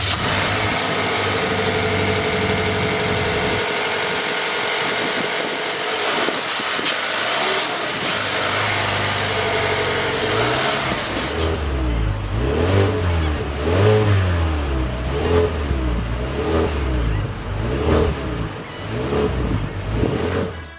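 A 2020 Mazda3 hatchback with a 2.5-liter four-cylinder engine runs steadily at idle, then revs repeatedly in rising and falling surges, close and loud with no talking.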